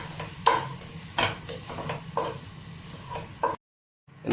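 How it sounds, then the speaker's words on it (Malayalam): Chicken being stirred and mixed with salt in a pan, scraping utensil strokes and faint sizzling in irregular bursts over several seconds, close by, ending in a brief silence. "ഉപ്പെല്ലാം ഇട്ട് മിക്സ് ആക്കലുണ്ട്."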